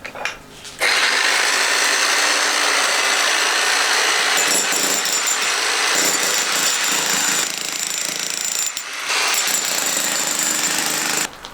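A power breaker hammer pounds stone in an old barn, a loud, continuous rapid hammering that starts abruptly and runs for about ten seconds with brief dips in intensity.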